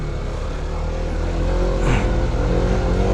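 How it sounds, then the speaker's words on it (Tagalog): A vehicle engine drones steadily with tire rumble as it travels along a dirt trail, a continuous low hum that swells slightly midway and holds, with no talking. "Tanging tunog ng makina at gulong sa lupa ang maririnig."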